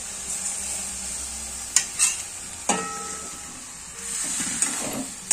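Milk is added to patishapta batter and stirred, giving a few scraping knocks of a utensil against the bowl and soft wet swishing over a faint steady hiss.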